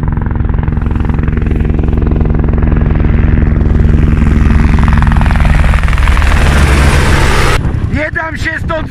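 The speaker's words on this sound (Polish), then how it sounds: "Leci do mnie helikopter po raz trzeci dzisiaj." Helicopter flying in toward a stranded competitor in the Dakar 2020 rally, a loud, steady rotor and engine drone close by that fills the clip, with someone shouting over it near the end.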